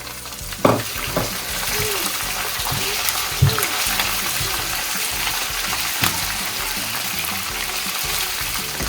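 Chopped onion with green chillies and curry leaves frying in oil for a chicken fry masala, giving a steady close sizzle with occasional stirring scrapes and clinks throughout.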